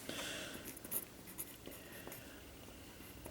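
Chalk or marker writing on a board during a calculus lecture on Newton's method, a string of soft scratchy strokes and taps at moderate distance in a quiet room, with no one talking.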